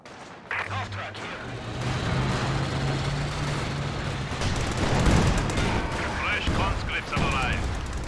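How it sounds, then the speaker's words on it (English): Artillery barrage striking an HQ in the strategy game Company of Heroes 2, dense rumbling explosions and booms rolling together at steady loudness, with a voice talking over parts of it. "That was this barrage on the HQ."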